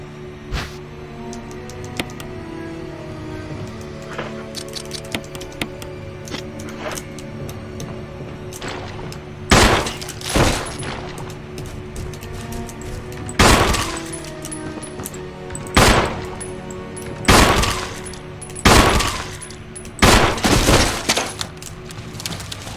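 Pistol shots in the Resident Evil Remake game, a series of loud, sharp cracks spaced a second or two apart, growing more frequent over a low, eerie ambient drone.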